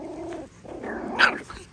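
Puppies growl in short, close bursts, with a sharper yelp-like peak near the end, and no speech over the sound.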